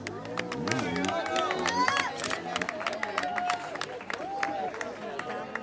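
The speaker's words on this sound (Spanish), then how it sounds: "un fuerte aplauso para ellos" Applause for a men's rafting team at an outdoor award ceremony during an international rafting festival, scattered clapping and crowd noise mixed with chatter and a voice over the top.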